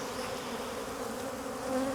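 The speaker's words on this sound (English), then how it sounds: "It's angry bees right where my ears are." Angry bees swarm close around a beekeeper's head, a dense, steady buzzing drone right near the ears, loud and continuous with no talking.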